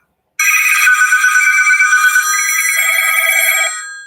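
A telephone rings with a bright electronic ringtone, one continuous trilling burst lasting several seconds that starts abruptly and fades at the end, loud and close with no talking.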